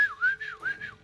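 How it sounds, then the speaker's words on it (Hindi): A person whistles alone, close and clear: a short sliding tune of four or five rising and falling notes. "सीटी से पहचान गया मैं इसको"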